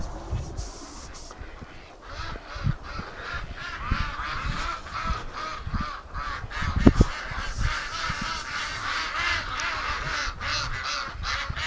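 Ducks call outdoors during a spring snowstorm, a busy flock honking and quacking in overlapping bursts close by, with one louder cry standing out near the middle.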